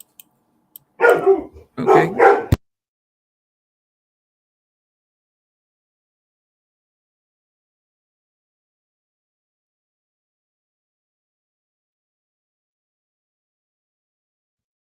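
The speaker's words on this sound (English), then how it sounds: "That was my dog." A dog barks in two short, loud bursts close by, part of a single quick outburst, then nothing more is heard; a person briefly says one word.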